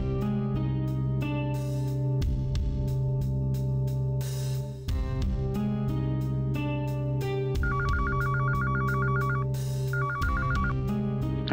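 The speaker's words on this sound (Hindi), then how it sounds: "श्वेता, नरपत सिंह जी के यहाँ जरा फोन लगा के पूछो" A telephone rings on a call in a Hindi TV drama, with two bursts of rapid electronic trilling over a sustained musical backing score.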